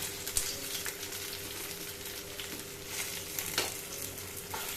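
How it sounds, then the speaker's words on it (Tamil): Urad dal, chana dal and dried chillies fry in a pan for a Tamil pirandai chutney, giving a steady close sizzle with occasional stirring scrapes and no voices. "பிஞ்சிச்சு உளுத்தம்பருப்பு, கடலைப்பருப்பு, காஞ்ச மிளகாய் போட்டுக்கலாம்."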